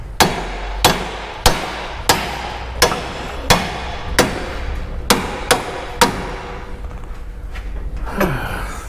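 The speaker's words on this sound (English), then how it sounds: "You hit that really hard with a hammer, and that's going to say thanks." A hammer strikes a ball joint on a Jaguar in a garage, ten loud metallic blows at a steady pace of roughly one per second, followed by a brief scraping rattle.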